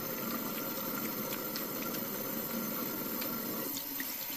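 Fresh water running steadily from a tap as a face is rinsed, a constant splashing wash at moderate level with no voices.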